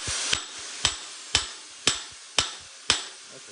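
Six evenly spaced hammer blows ring out in a garage, each a sharp metallic strike with a brief decay, loud and close, with no talking.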